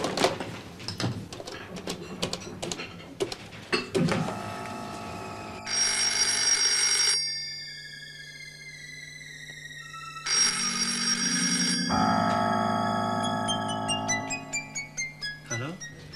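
An old telephone ringing in a German crime drama, electronic ring bursts sounding twice with gaps between, loud and close over a background music score and other noises.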